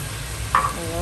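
Soy sauce, about a spoonful, poured onto fried rice in a hot pan, giving a brief, close sizzling burst that rises suddenly and fades back into a low steady frying hiss.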